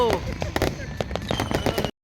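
New Year 2023 fireworks over Ras Al Khaimah: a rapid volley of sharp crackling bursts and pops layered over continuous crowd chatter and voices, loud and close, stopping abruptly.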